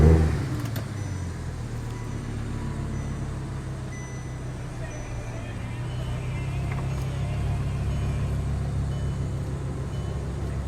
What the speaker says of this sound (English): I'm going to give it some revs, and then we'll take a look at the engine too